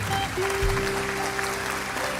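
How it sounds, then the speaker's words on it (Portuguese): Congregation in a Brazilian Baptist church applauding the Lord after a prayer, a dense wash of clapping with sustained musical tones underneath, steady and fairly loud throughout. "Você pode aplaudir ao Senhor."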